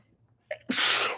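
A single sharp sneeze from a woman: a short intake, a brief pause, then a loud, close, noisy burst lasting about half a second, with no talking around it.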